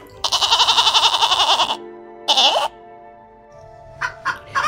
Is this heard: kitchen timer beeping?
no